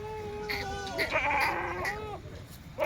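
A large dairy goat at a weekly goat market in Jawala bleats in one long, wavering, fairly close call, over background market murmur.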